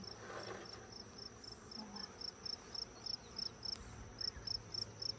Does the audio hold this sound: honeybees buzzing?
yes